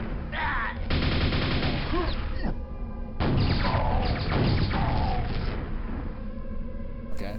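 Rocket launcher fire in Quake, played through Quakespasm on the Underdark Overbright map pack: heavy, overlapping blasts and booming explosions roar almost without pause, loud and dense, with no voices.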